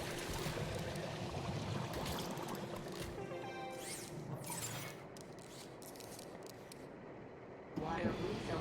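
Water gurgles and pours steadily as a robot refills its water tank in the video game Beyond a Steel Sky, a continuous liquid rush with faint mechanical whirring, ending in a brief louder burst.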